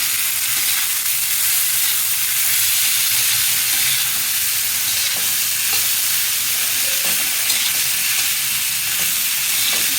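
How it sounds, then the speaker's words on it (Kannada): Sprouted moth beans fry in a hot pan on the stove, giving a steady, loud, dense sizzle with occasional stirring scrapes throughout. "ಮೊಳಕೆ ಬಂದಿರೋಂಥ ಮಡಿಕೆ ಕಾಳು ಹಾಕ್ಕೊತಿದ್ದೀನಿ"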